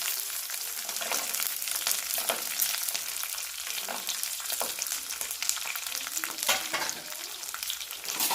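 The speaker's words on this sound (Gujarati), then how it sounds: "આને આપણે ધીમે ધીમે મિક્સ કરતા જઈશું અને ચડવા દઈશું" Ginger pieces, green chilies and peanuts frying in a pan, a constant crackling sizzle with occasional stirring scrapes, close and steady throughout.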